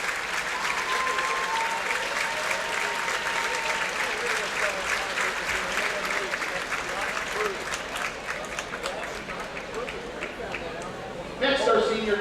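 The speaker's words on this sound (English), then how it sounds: "Let's have a round of applause for all of our swimmers" Sustained applause from a crowd at a high school boys JV basketball game versus Butler, honoring the swimmers, steady clapping throughout with a brief louder burst near the end.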